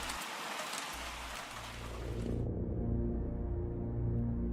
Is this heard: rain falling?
yes